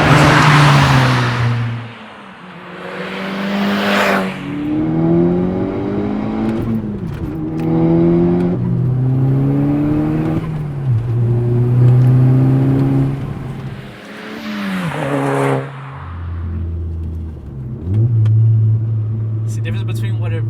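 A Volkswagen MK6 Golf R with a Unitronic Stage 2 tune drives past, its engine climbing steadily in pitch through several gear changes. It sounds loud and close throughout.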